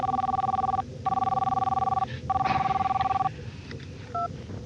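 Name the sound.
telephone dialing and ringing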